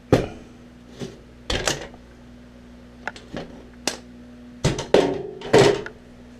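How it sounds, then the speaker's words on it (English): Sharp metallic bangs and clanks come in irregular bursts, some single and some in quick pairs, close by with quiet gaps between strikes. "I'm going to take it all apart, beat it, bang it, and cut it"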